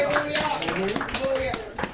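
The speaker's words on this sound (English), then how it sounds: "Clap it up if you've heard that" A rowdy comedy-show crowd at Lake George claps in a quick burst of scattered hand claps, mixed with talking voices.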